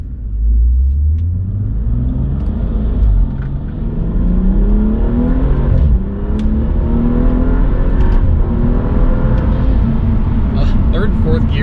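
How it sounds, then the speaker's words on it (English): A BMW F30 accelerates hard through the gears, its intake noise a loud, close rumbling drone that climbs in pitch, drops at each shift and climbs again, with someone talking over it. "the intake noise is just fantastic"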